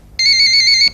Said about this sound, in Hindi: तुमने टेलीफोन नहीं उठाना